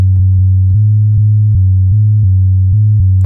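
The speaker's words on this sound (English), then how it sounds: "we get a decent sounding 808" Deep synthesized 808 bass drum hits, built from filtered noise, pulse in a steady rhythm, each a booming low tone with a soft click, loud and sustained without pauses.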